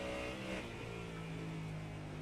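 A Porsche GT3 race car accelerating out of a corner on a wet track, a loud, steady engine drone with rising tones, heard close and continuous with no talk.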